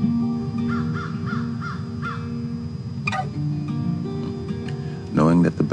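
Crows cawing outdoors in a quiet natural setting: a series of repeated caws, moderately distant, with a louder close call near the end, beneath a calm speaking voice.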